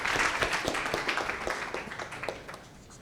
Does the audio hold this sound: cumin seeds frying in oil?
no